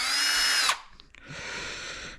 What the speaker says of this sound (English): So guys, that's the drill recharged.